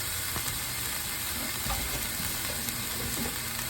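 Shredded slaw cooking down with ground meat in a hot pan for egg roll in a bowl, a steady soft sizzle and hiss throughout with occasional faint stirring clicks.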